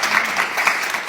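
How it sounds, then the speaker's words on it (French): Indoor audience applause, a dense even burst of clapping from many hands that carries through the whole short moment with no pause. "Applaudissez-les, s'il vous plaît."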